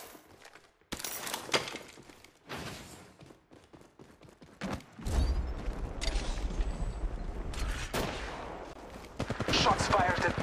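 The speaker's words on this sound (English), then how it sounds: "Shots fired at me." Gunfire in the Apex Legends mobile battle royale game, with sharp bursts of automatic weapon shots that start in short volleys and build into sustained rapid fire, with brief gaps and some faint voice in the mix.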